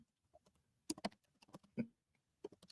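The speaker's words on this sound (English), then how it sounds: "I was just typing something in the back" Faint, irregular keystrokes from a computer keyboard tapped somewhere in the background, with scattered soft clicks, a few brief bursts and quiet gaps between them.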